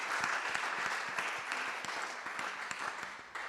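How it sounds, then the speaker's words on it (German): An audience at a live festival discussion applauds in a steady, moderately distant patter of many hands clapping without pause. "Applaus für Theater Trondo auch."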